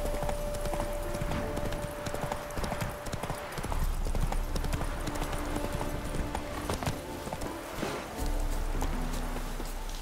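Roach, a horse in The Witcher 3: Wild Hunt, gallops with a steady, rapid clip-clop of hooves that carries throughout, layered over ambient game sound.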